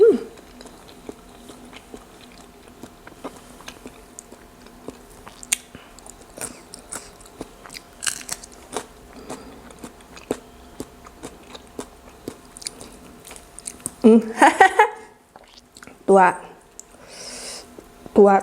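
Someone chews raw beef close up. Soft wet smacks and clicks repeat steadily, and a voice talks briefly near the end.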